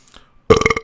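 A single loud, close, guttural burp with a rattling, pulsing texture follows a moment of near silence.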